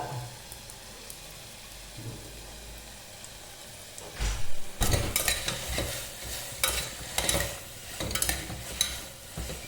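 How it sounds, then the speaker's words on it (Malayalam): Crushed green chili, ginger and garlic sautéing in oil for mutton curry, a soft sizzle at first, then louder rhythmic scraping as a spoon stirs the pan repeatedly, close up with no speech. "ഇതൊരു ഇളം ബ്രൗൺ കളർ ആവുന്ന വരക്ക് നല്ലോണം വാട്ടുക"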